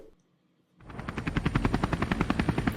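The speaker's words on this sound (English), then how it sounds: "Okay, helicopter sound." After a brief near-silent moment, a helicopter's rotor starts up in a music video, a loud rapid regular chopping beat holding steady to the end.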